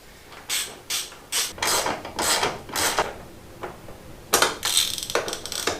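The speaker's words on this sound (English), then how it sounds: "Now I just need to get a few bolts in here to hold this air box in" Bolts being fitted to hold the air box on a 1974 Honda MT250 motorcycle: a series of quick ratchet clicking bursts, close and crisp, with short pauses between strokes and a faster flurry near the end.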